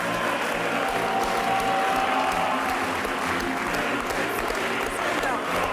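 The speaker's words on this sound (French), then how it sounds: "Je voudrais qu'on l'applaudisse fort, très très fort." Sustained applause from a large crowd, steady and dense clapping with some cheering mixed in throughout.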